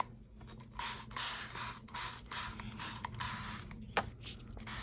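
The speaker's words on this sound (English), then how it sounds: "And so let's spritz on the back." A spray bottle spritzes water onto the back of paper in a series of quick, close, soft hissing bursts with short pauses between them, about seven or eight sprays in a row.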